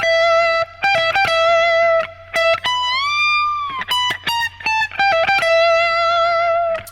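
Electric guitar with effects plays a solo, picking the same two notes in rapid repeated bursts, with one longer bent, wavering note midway, loud and close with no talking.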